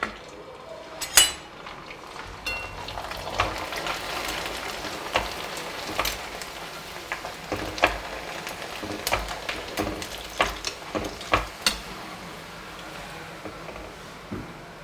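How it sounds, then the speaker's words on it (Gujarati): A Gujarati rice papdi (khichiya) frying in hot oil, with a steady sizzle and scattered crackles and pops over about fifteen seconds, with no talking. "હવે આ એક પાપડી આપણે તળીશું"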